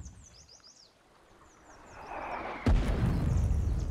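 Artillery fire in the war game Foxhole: a sudden heavy boom lands partway through, followed by a sustained low rumble, after quieter ambient battlefield noise with faint distant sounds.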